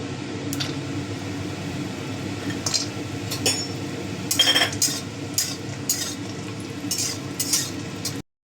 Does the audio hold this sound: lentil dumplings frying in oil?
yes